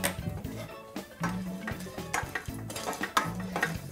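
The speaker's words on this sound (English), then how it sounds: "we're just gonna dry roast the almond slivers and the cloves" Almond slivers and cloves dry roasting in a pan over medium stove heat, stirred with quick repeated scraping and clinking strokes of a utensil against the pan, close and fairly quiet, with no talk.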